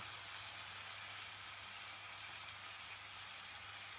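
Mustard seeds crackle and onions with curry leaves fry in hot oil while a prawn thokku is cooked, giving a steady, close, dense sizzle that runs unbroken and without talk.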